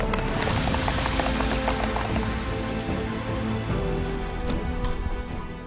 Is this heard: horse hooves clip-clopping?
yes